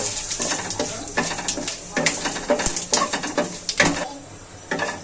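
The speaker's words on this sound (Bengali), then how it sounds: "ফোড়নটাকে নেড়ে ছেড়ে ভেজে নেব।" Whole cumin seeds, two bay leaves and a dry red chilli fry in hot oil for a tempering, a soft sizzle broken by repeated scraping and clinking of a spatula stirring the pan.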